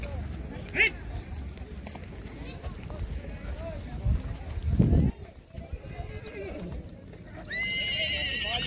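A horse at a Kutch horse race event whinnies loudly and clearly, with hooves clopping on hard ground, while people talk in the background and other animal noises mix into the scene.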